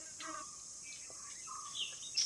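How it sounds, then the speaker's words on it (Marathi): A bird gives a few faint, thin chirps and calls over a steady hissing background of insects in a quiet outdoor setting. "हा पक्षी कोणता ओरडतोय"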